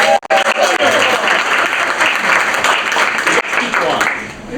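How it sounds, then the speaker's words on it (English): Audience applause breaks out at a Harry Potter conference, loud, dense clapping with a few cheers near the start and brief sharp handling knocks, staying strong before easing slightly at the end. "Let's give it a round of applause."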